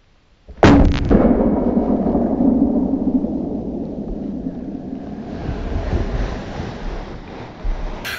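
A hunting rifle shot, slowed down, booms out loud and sudden and then stretches into a long rumbling roar that slowly fades, with a faint later thump.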